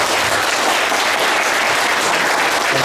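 Audience applause at a patriotic congress hall gathering in Braniewo, Poland, a thick continuous wall of clapping from many hands, loud and even with no talk.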